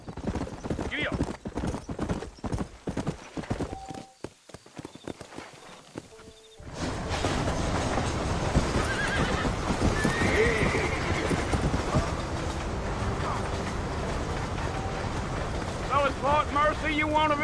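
Several horses clip-clop along a dusty trail out of town in Red Dead Redemption, steady hoofbeats with a whinny, wind and ambient game sound, while characters talk over the ride.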